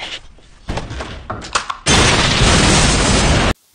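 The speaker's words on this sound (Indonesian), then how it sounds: "Alhasil, dua sudut gedung asrama pun meledak." In a drama scene, two corners of a dormitory building blow up: scattered thuds and bangs build into a sudden, very loud sustained roaring blast that cuts off abruptly.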